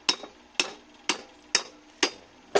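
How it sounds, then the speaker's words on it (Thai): A hammer strikes a lighting ballast to knock out its copper, six sharp metallic blows landing at an even rhythm about half a second apart, close and clear with no talk. "เราจะตอกันออกเลยครับ"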